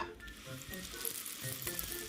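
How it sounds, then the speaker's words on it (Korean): Rice paper–wrapped Spam rice balls fry in hot oil, a close, steady crackling sizzle with small popping bursts and no talking. "자 이제 뒷면이 하얗게 튀겨졌으면 한번 뒤집어 주세요"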